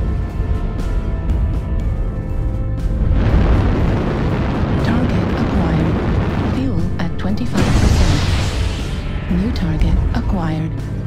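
Heavy booming explosions roll out in a military shooter video game as targets are destroyed, two big blasts with long rumbling tails layered over continuous game noise and radio-style callouts.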